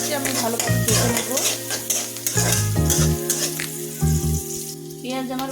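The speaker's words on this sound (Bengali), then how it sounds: "পেঁয়াজকে আমি ভালোভাবে ভেজে নেব।" Onions fry in a pan with a bright, crackling sizzle while a utensil stirs and scrapes repeatedly, close and fairly loud, with background tones and some voice-like sound mixed in.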